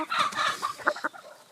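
An American Thai game hen about five months old, a thick, flat-backed bird, gives a few short clucking calls close by, with no one talking over them.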